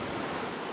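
Ocean waves at sea near a shallow bank in the Atlantic, heard from a sailing boat as a steady, dense wash of surf with wind noise across the microphone.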